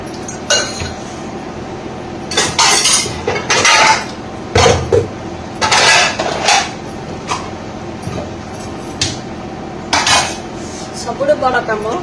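Utensils being scrubbed and rinsed in a home kitchen, with repeated metallic clinks and clatters of pots and steel dishes in uneven bursts over running water, close and fairly loud, no talking.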